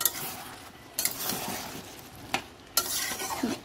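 Soya chunks, potato and egg curry being stirred and sautéed in a pan, close spoon scrapes and clinks in short bursts over a low sizzle.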